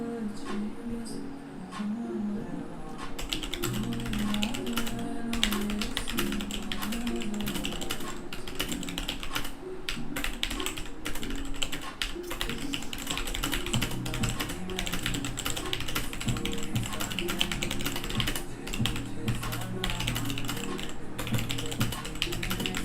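Steady clicking of typing on a computer keyboard, likely a mechanical board, with dense rapid keystrokes running throughout over a low background hum.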